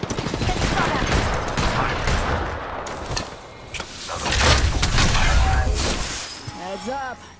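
Apex Legends gunfire: bursts of rapid shots and booming impacts from a battle royale fight, loud and close, mixed with game sound effects and character voice lines.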